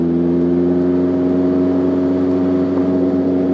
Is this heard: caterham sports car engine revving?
yes